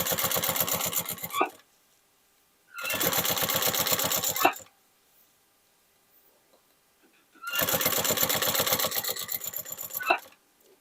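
A sewing machine stitches a shoulder bag from old jeans, running in three rapid buzzing bursts of a couple of seconds each, separated by quiet pauses, close and loud, with no talk.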